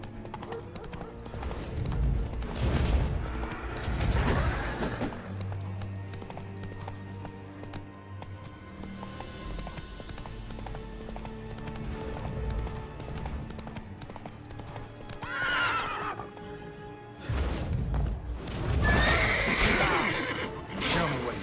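Roach the horse in The Witcher 3 gallops with steady clip-clop hoofbeats through the span, breaking into loud neighs near the start and toward the end.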